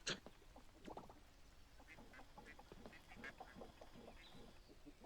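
Ducks in the farming game Coral Island give a string of short, repeated quacks at steady volume, with a few brighter calls mixed in and no talking.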